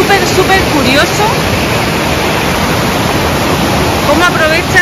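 Water rushes loudly and steadily past old watermills on a river in Bosnia, a dense continuous roar heard close up without a break.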